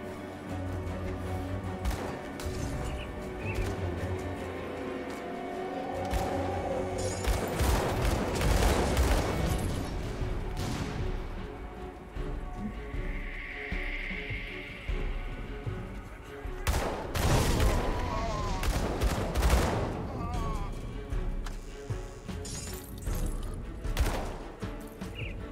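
Ether fire attacks from a Purifier character and enemies in Grim Dawn on Veteran Hardcore, heard as dense, layered bursts of blasts and crackling impacts that come in repeated waves over a constant game soundscape.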